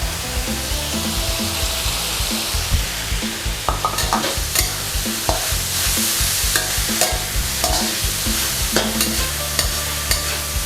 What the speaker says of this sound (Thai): ผัดให้เข้ากันดีเลยนะคะ อย่างเข้ากันดีแล้วต่อไปก็ใส่ดอกกุ้ยช่ายลงไปเลยค่ะ